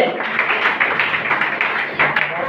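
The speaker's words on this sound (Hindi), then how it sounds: "और एक बार जोरदार ताली दीदी के लिए।" A seated audience at a DXN business meeting breaks into dense, steady applause, many hands clapping together in a continuous close wash with no clear gaps.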